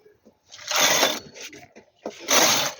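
A knitting machine carriage makes two rushing, rattling passes across the needle bed while knitting a row of a small baby shoe piece, with quiet pauses between the runs.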